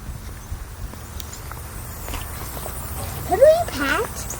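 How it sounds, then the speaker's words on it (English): Hooves of a small black miniature horse clip-clop at a family farm, soft and fairly steady, with voices chattering nearby. "It's a mini horse."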